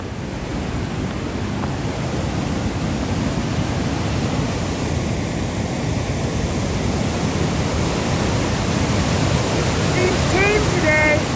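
Recolett Falls on the French River roars as a steady, loud, broadband rush of falling water, unbroken throughout, with faint chirps near the end.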